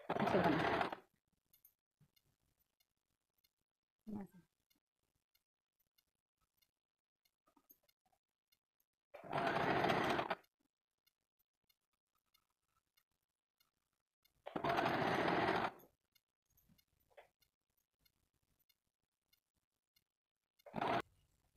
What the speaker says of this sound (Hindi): इसे डबल फोल्ड करके यहाँ से ऐसे स्टिच करना है।